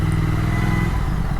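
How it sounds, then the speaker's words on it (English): A Triumph Thruxton R motorcycle with an aftermarket Vance & Hines exhaust idles and revs close by, a deep, steady, throbbing engine note with no voices. "you get a sexy Vans and Heinz exhaust, which sounds something like this"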